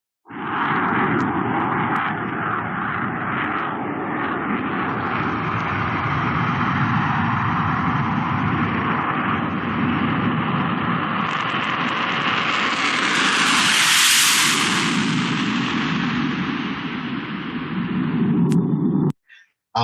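A U.S. Navy Blue Angels F/A-18 Hornet jet flies past with a loud, sustained roar that swells to a rushing peak and then fades before ending abruptly.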